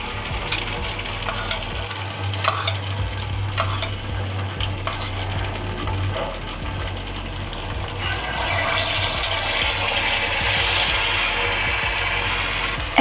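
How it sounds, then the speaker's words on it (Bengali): Crispy potato balls deep-frying one by one in plenty of oil, a steady close sizzle and bubbling with occasional stirring clatter, growing fuller and hissier toward the end. "এক এক করে আমি সব বলগুলো এইভাবে ভেজে নেব।"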